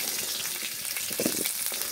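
Potatoes frying in hot oil for a fish curry, a close, steady crackling sizzle with a soft stir near the end, no voices.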